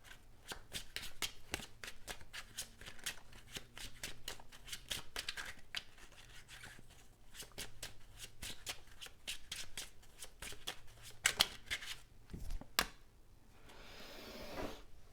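Tarot cards being shuffled and drawn by hand, a dense, close riffling flutter of cards in quick bursts with brief pauses and a few sharper slaps near the end, no speech.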